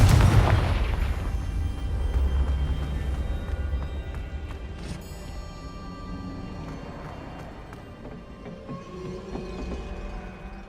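Confringo spell explosions in the Hogwarts Legacy video game: a heavy boom opens, then a long rumbling decay with scattered crackles and pops, loud at first and fading, no talk.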